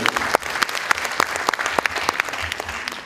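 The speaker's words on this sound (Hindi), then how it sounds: "कृपया जोरदार तालियां बजाइए।" Loud, close applause at a staged theater drama event, with crisp, individual claps ringing out steadily over a softer crowd clapping throughout.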